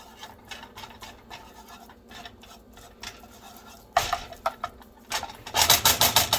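A whisk scrapes and stirs a flour-thickened gravy in a pan, starting as quiet scratchy strokes and growing into loud, rapid rhythmic rasping near the end; no speech.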